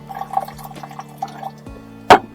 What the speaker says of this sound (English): we want to rinse and drain our protein